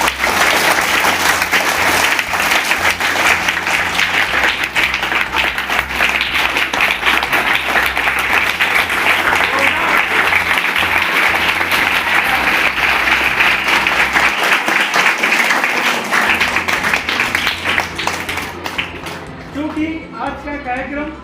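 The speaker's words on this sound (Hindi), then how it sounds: "तो जोरदार तालियों के साथ" Loud, sustained applause from a gathered crowd at a farewell ceremony honouring transferred teachers and a senior clerk, steady for most of the span with a low musical hum beneath, then thinning out near the end.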